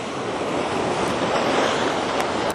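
Sea waves break against a rocky shoreline where people fish, making a constant, loud rushing wash mixed with wind buffeting the microphone, with no speech.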